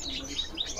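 Papua magpie-robin (murai Papua) at a bird market, giving short bright chirps and thin whistled notes, close but fairly faint over a low background murmur, all within under a second.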